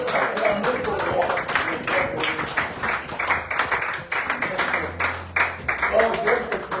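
Congregation in a French-speaking church service clapping in rhythm to acclaim the Lord, steady dense claps throughout under worship music and voices, loud and close.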